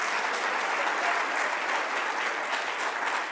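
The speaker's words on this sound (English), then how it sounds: "Yes, let's give him a round of applause." Audience applause during a New York governor's announcement event, a continuous, even wash of many people clapping, heard alone with no talk over it.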